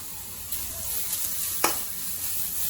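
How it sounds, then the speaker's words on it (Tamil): Grated beetroot sautés in ghee in a pan for beetroot halwa, giving a soft, steady sizzle with a few light stirring scrapes and one sharper clink. "அது கொஞ்சம் நெய்யில போட்டு வதக்கும் போது"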